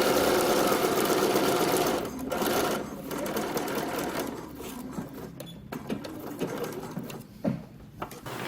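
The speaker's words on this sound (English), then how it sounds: "and then you can stitch right on that line." A home sewing machine stitches a dart in garment fabric, a close steady mechanical whir for about two seconds, then shorter stop-and-start bursts of stitching with small clicks and pauses.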